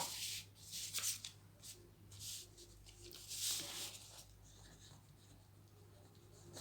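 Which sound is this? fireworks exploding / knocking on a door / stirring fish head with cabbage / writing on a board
writing on a board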